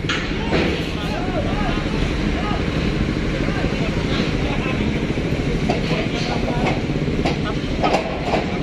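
A Pahala Kencana Surabaya–Palembang bus with a Nusantara Gemilang body rolls onto a ferry at dock 4 of Merak port, giving a steady rumbling, clattering vehicle and ramp noise with intermittent knocks, close and continuous, with a voice talking over it.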